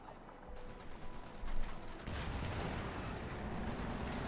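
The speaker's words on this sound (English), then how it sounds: "Sherman going in there. Shoots and takes a penetrating hit there." A Sherman tank fires in Company of Heroes 2, a World War II strategy game, with a heavy boom that rolls into sustained loud battle rumble and mechanical clatter.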